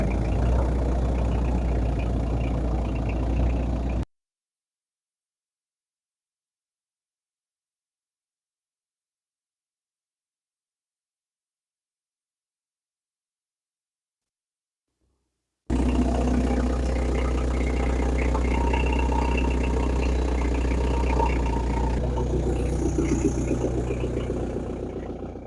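A Toyota Land Cruiser BJ73 diesel engine idles smoothly with a steady low rumble, broken by a long stretch of total silence in the middle before the idle resumes.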